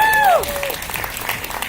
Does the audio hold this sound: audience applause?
yes